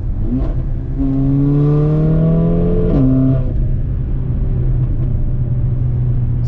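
A Mercedes GLA45 AMG with a dual clutch transmission and tuned transmission control revs up through gears, rising engine drone broken by a sharp exhaust fart at the shift, then settling into a steady rumble.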